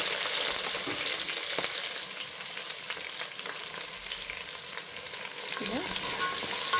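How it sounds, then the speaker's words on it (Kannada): Green chilies and onion fry with curry leaves in a pan for flattened-rice upittu, giving a continuous close crackling sizzle with occasional stirring scrapes throughout. "ಚೆನ್ನಾಗಿ ಫ್ರೈ ಮಾಡ್ಕೊಬೇಕು ಈರುಳ್ಳಿ ಎಲ್ಲ ಕೆಂಪಗಾಗಬೇಕು"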